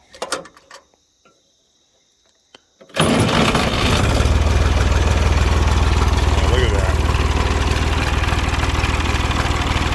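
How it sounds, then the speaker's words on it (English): After a few seconds of quiet with faint clicks, a 1965 Massey Ferguson 203 tractor's old three-cylinder diesel engine cranks and catches, then chugs loudly and steadily at a rough idle nearby. "pretty cool old tractor. It's amazing that these things are still in service, but let's fire this thing up"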